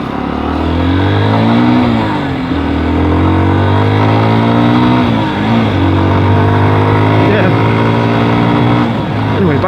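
A Lexmoto Isca 125 motorcycle engine drones loud and close while riding, a steady buzzing note that rises and dips with the throttle, with wind rush throughout.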